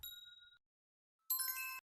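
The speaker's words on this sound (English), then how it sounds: "Why are all these bells so pretty?" Two synthetic bell chimes previewed in a voxel game editor, a short bright ding followed after a pause by a brighter, richer jingling ring, both clean and isolated.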